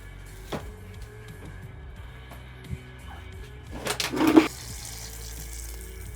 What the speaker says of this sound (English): I'm just going to take them outside and give them a quick wash down and water them thoroughly